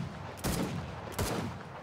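Two heavy gunshots from a weapon in Gears of War 4, spaced less than a second apart, each a sharp loud blast with a short decaying tail over a quiet background.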